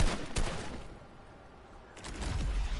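Gunfire in a PlayStation 4 online shooter game, with bursts of rapid shots at the start, a quieter lull in the middle, and another loud burst of fire toward the end.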